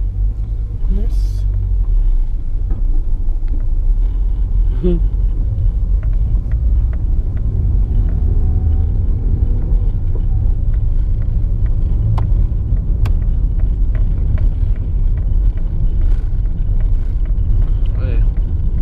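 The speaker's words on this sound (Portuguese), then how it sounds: "A caminhonete, olha a ventoinha lá funcionando." A Chevrolet Montana pickup's engine idles steadily with its radiator fan spinning, a continuous low rumble close by while people talk over it.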